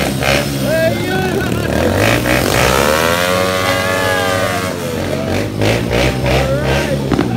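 Loud motorcycles pass close by, engines revving and rising then falling in pitch as they go past, one after another, with voices faintly underneath.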